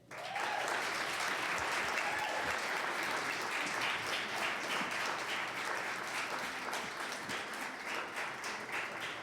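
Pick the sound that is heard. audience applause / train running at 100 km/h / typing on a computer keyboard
audience applause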